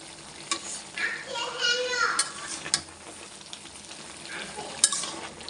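Country chicken meat with spices is stirred and fried in a pan, a soft close sizzle broken by scraping stirs and light clinks of a utensil against the pan.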